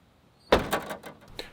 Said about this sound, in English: Now you can see here I'm opening and closing the door with my new struts on